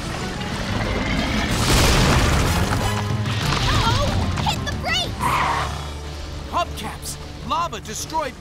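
Cartoon lava smashes through part of a bridge in an animated race, a loud rumbling crash and crumble mixed with music, then scattered pops and sparkling effects as the roar settles.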